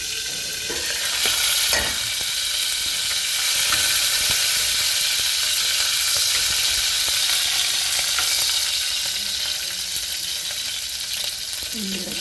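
Green chillies hit hot oil and sizzle with a continuous bright spluttering hiss that runs the whole time. There are occasional stirring scrapes and a faint voice in the background.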